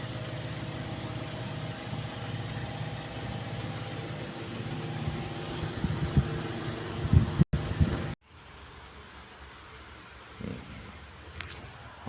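A motorcycle engine idles while warming up, a steady low rumbling drone that cuts off abruptly partway through and leaves faint background noise.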